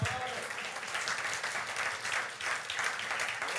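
A church congregation applauding, sustained dense clapping at moderate distance with a faint crowd murmur underneath.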